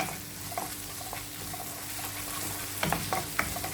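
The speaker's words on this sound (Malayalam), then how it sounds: "ചേർത്തിട്ട് ഇളക്കി കൊടുക്കുക" Macaroni being stirred in a pan with salt and chili flakes, soft scraping and light sizzling, with a few sharper clinks of the spoon against the pan near the end.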